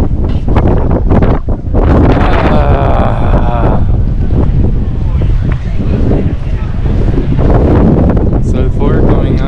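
Strong wind buffets the microphone near Mt. Fuji in cold weather, a loud, continuous roaring rumble with gusty surges throughout, while people talk over it.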